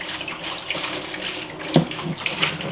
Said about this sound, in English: We fill this big old cooler with cold water, ice, and apple cider vinegar.